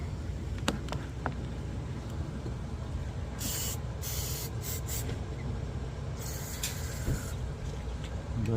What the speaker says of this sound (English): carburetor choke cleaner.